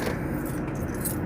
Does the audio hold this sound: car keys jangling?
yes